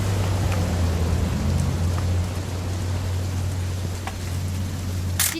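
Steady rain falls throughout a quiet scene in the game What Remains of Edith Finch, a soft continuous patter with a low hum beneath and a faint brief crackle near the end.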